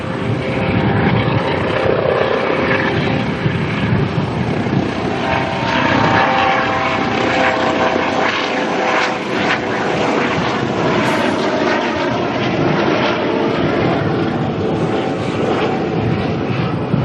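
A helicopter lifts off from an airport taxiway and hovers. Its loud, continuous rotor and engine roar stays close and steady throughout.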